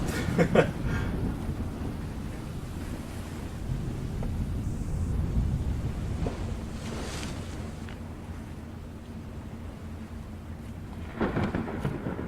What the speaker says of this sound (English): That thunder scared the crap out of me.